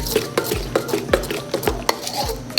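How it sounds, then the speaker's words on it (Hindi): Onions being stirred in a karahi with a metal spoon, a steady run of close scraping and clinking strokes roughly every few tenths of a second, with only a faint sizzle beneath. "प्याज थोड़ा भून लेंगे इसमें,"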